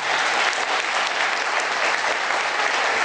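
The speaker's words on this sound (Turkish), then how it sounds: "Buradaki arkadaşlarımıza kuvvetlice bir alkışla teşekkür etmemiz gerekiyor." Steady, loud applause from an audience at an association gathering, dense clapping sustained evenly for about three seconds with no voices standing out.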